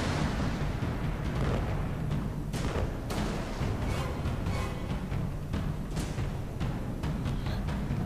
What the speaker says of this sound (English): this thing has some deadly giant cannons